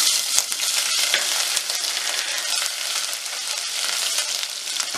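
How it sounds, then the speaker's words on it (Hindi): Cumin seeds with crushed garlic and ginger frying in hot oil for an aloo methi dish, giving a loud, steady, dense sizzle that runs close and unbroken throughout. "सबसे पहले ऑयल को गर्म करके हम इसमें ज़ीरा डालेंगे, साथ ही कुचला हुआ लहसुन अदरक डाल देंगे।"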